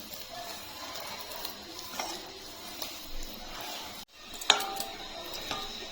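Flour batter for gokul pitha being mixed with warm milk in a bowl, heard as faint scraping and light clinks against the bowl, with a sharper clink near the end and no talking.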